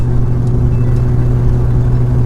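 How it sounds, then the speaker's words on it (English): A Dodge Viper idles with a deep, steady exhaust note, low and throbby, loud and close, holding evenly with no revving and no voices. "The car sounds phenomenal, unlike any other car that I've had"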